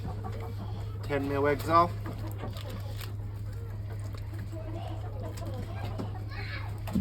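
Clucking from a flock of around 40 to 50 chickens, mixed with a steady low hum and handling noises, while someone talks over them close by.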